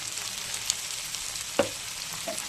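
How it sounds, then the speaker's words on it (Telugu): Liver fry with turmeric, coriander and cumin powder being stirred in a pan: a steady sizzling hiss throughout, with a couple of sharp spoon-against-pan clinks, close and alone with no talk. "వీటన్నిటిని బాగా కలుపుతున్నాం"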